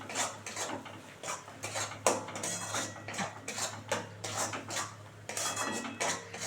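A utensil scrapes and clatters in a pan while cauliflower and peanuts are sautéed, giving repeated uneven metallic strokes over a low steady hum. The sound is fairly faint and close, with no talking.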